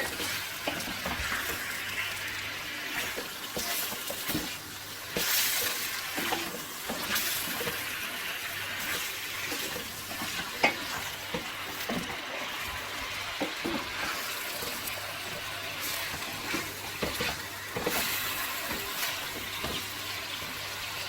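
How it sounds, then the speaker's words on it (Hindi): Chicken fries on a tawa over a medium flame, giving a steady, dense sizzle with frequent scraping and stirring knocks throughout, moderately loud and without voices. "फ्लेम को हमने यहाँ पे मीडियम पे रखा है और हम इसे कुछ सेकंड्स के लिए फ्राई करेंगे।"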